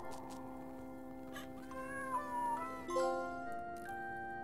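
A cat meows in the platformer Jump King, a few drawn-out, wavering meows over a sustained musical drone with light chimes, fairly quiet and without speech.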